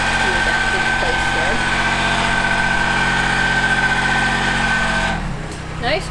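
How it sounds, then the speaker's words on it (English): A Kubota tractor engine rattling steadily at a constant idle-like drone, loud and near, with a pitch and level drop toward the end and voices talking underneath. "that rattle is my lovely Kubota"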